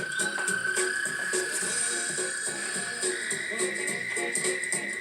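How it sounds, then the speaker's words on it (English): A male American toad gives its mating call, a sustained high trill that holds steady throughout, with faint background chirps and croaks around it. "The male will make a loud noise called a trill."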